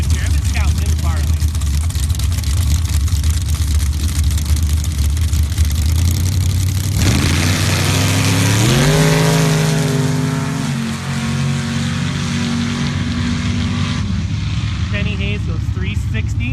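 Sand drag racing vehicles, including a nitrous-equipped Jeep, make runs at a sand drag event, with loud engine roar building into a rising, shifting rev sweep, under commentator talk and crowd ambience.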